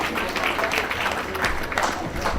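Sustained applause from a gathered audience honouring a family at an African family induction ceremony in Los Angeles, a dense steady patter of many hands clapping close by with a murmur of voices underneath.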